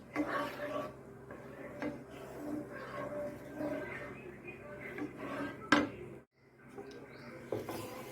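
Milk with date palm jaggery is stirred in a pot, producing repeated scraping and clinking of a utensil against the metal, close and moderately quiet, with a brief gap near the end.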